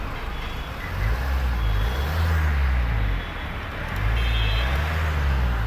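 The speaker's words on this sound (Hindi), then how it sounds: "गाड़ी की आवाज़ सुनाओ आपको थोड़ी सी, देख लो अब ऐसे सुनो मस्त आवाज़ सुना।" A Jaguar XF luxury car sits with its engine running in a steady low idle rumble, revving gently a few times.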